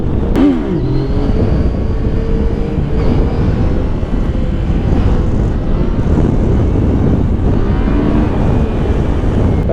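A Yamaha Tracer 900 GT motorcycle pulling a wheelie, its engine roaring loud and close as a sustained, strained drone with wind rush. The pitch shifts slightly throughout.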